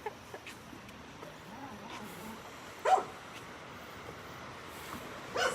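Dogs bark a few times at a distance on a beach at sunrise, short faint yips and barks scattered over a steady wash of surf and wind.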